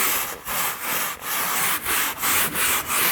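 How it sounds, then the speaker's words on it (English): A brush scrubs wet boat carpet back and forth in a steady rhythm of about eight strokes, a loud, close, rough swishing with brief pauses where the stroke changes direction. "take your brush again and scrub back and forth on your diagonal"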